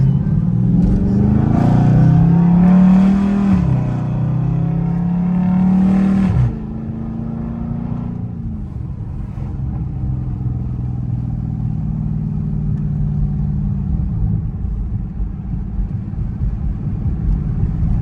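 A Jeep Grand Cherokee Trackhawk driving in traffic, its supercharger whine rising and falling loudly with revs over a steady engine drone, then settling into a lower cruising hum.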